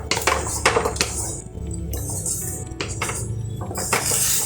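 A spatula stirring spice paste into onion and capsicum in a metal pan for Kashmiri aloo dum, with repeated clinks and scrapes against the pan over a low background sizzle, close and fairly loud.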